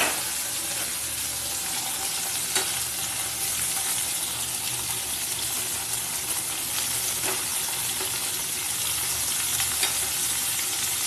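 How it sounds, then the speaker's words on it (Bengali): Okra and potatoes stir-fry in a pan with a constant close hiss and crackle, punctuated by occasional soft scrapes of stirring. "এবার নেড়ে চেড়ে ভাজা ভাজা করে নিতে হবে।"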